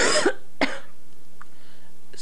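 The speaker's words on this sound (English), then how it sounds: "excuse my coughing." A man gives two sharp, close coughs in quick succession, followed by near silence with a faint short sound near the end.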